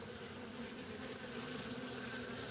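Honey bees hum steadily at an open hive during a beekeeping visit, a continuous mid-loud buzz with a high whine on top, close by and unbroken, with no talk over it.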